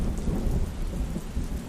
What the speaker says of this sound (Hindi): तभी अचानक तेज तूफान और बारिश शुरू हो गई।